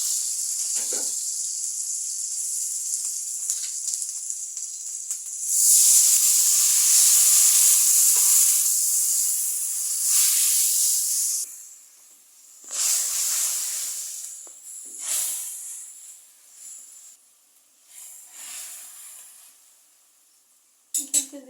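Pangas fish curry sizzling in hot oil, a loud steady hiss that swells and fades in waves, dropping to quieter crackles between bursts, with no talking.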